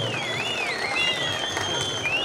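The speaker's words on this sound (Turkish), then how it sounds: "kuvvetli bir alkış istiyorum Sayın Valimize" Applause from the audience at an outdoor sheep-shearing festival in Beytüşşebap, a steady crowd clapping throughout with whistling and a thin high tone running over it.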